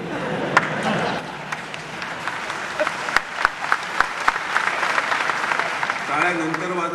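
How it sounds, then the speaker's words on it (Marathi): An audience applauds during a political speech in Nashik, with a broad, sustained wash of clapping and sharp individual claps while a voice speaks over it. "टाळ्या नंतर वाजवा"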